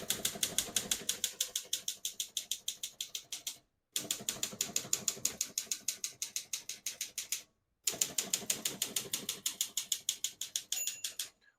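Rapid mechanical typing on a 1965 Remington Mark 2 portable typewriter, steady clacking keystrokes in three runs separated by brief pauses, with a small ring of the margin bell near the end.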